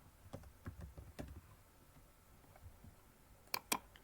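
Typing on a computer keyboard comes as a few soft, scattered key taps followed by two crisper, louder clicks near the end, close but faint in a quiet room with no speech.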